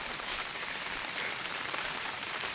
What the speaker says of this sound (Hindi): अब वर्षा हो रही है, देखिए कैसे वर्षा हो रही है।